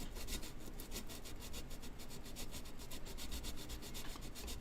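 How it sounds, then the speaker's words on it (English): Sanding a metal surface clean before soldering makes a close, rhythmic rasping, quick regular back-and-forth strokes repeating steadily with no talking. "Do a little bit of sanding in here."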